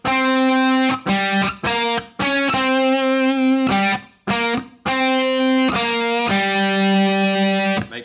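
A distorted electric guitar plays the Smoke on the Water riff in chunky power-chord bursts with short gaps, repeated twice, loud and close with no voices.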